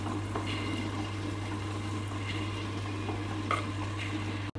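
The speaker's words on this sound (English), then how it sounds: "we will grind the urad dal into a smooth and fluffy batter" Urad dal being ground into a smooth, fluffy batter in a wet grinder, a steady close churning drone with a constant low hum and occasional brief scrapes, heard alone with no talking.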